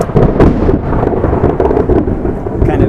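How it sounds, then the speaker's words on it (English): A loud, close thunderclap rolls out over about three seconds with a continuous broad rumble, rain hissing faintly beneath it, and no voices. "Kind of thunderclap to accentuate the point."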